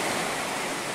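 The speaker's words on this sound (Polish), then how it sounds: "rozfalowała nieco morze, czyniąc wejście do wody nieco bardziej atrakcyjne." Sea surf at the beach in Sarti, Greece, stirred up by a blowing breeze, a loud, dense wash of breaking waves and wind that fills the whole moment without a break.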